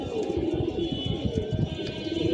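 A flock of homing pigeons coos while coming in to land, a continuous rhythmic pulsing of low throaty coos, close and steady throughout.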